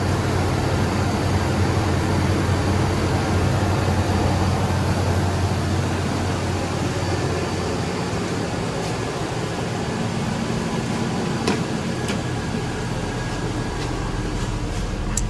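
A 1993 Chevrolet S10 with a V6 engine idles after a tune-up, giving a steady, loud, even rumble throughout with faint ticks near the end and no talk.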